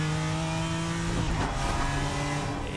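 BMW M4 GT4 engine in a racing game mod at the Sachsenring, a loud, continuous racing-engine drone with shifting pitch as it accelerates, without voices.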